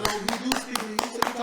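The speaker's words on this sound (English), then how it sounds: "Round of applause." An audience claps in quick, steady, evenly spaced beats through the clip while people talk over it.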